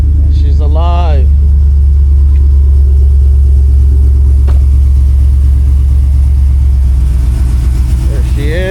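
A car engine runs at a loud, steady idle with a deep low rumble on its first start after a crankshaft position sensor replacement, and a voice speaks briefly near the start and again near the end.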